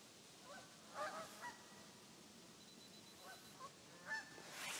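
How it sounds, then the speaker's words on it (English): Geese fly over North Shore Long Island woods in fall, honking in a few scattered, faint, distant calls that come in two short bursts over a steady outdoor hush. "oh, here comes some geese."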